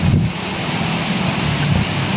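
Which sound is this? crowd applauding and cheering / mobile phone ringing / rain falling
rain falling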